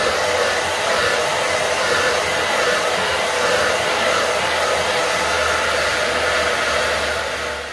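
Steady, loud hair dryer blowing without a break as it heats a shamanic drum skin, a constant whooshing roar that stays even for the whole stretch with no talk.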